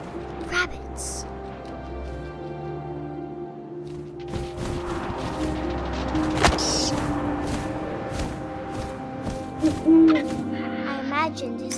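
An owl hoots in the video game What Remains of Edith Finch, sounding over a low windy ambience with scattered rustles and soft thuds, with a voice speaking through parts of it.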